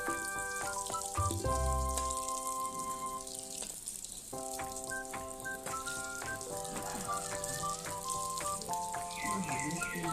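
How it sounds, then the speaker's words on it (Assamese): Chickpea dal fritters fry in hot oil with a steady bubbling sizzle that runs throughout, sitting under background music with a faint clatter at one point. "ৰঙা ৰঙা কৰি ভাজিব"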